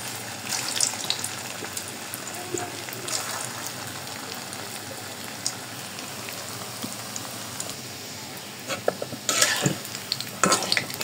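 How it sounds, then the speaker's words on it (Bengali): Pangas fish koftas dropped one by one into hot oil, a steady crackling sizzle like light rain, rising louder and busier toward the end with occasional utensil taps. "এখন আমি এক এক করে সবগুলা কোফতা ভেজে নিব।"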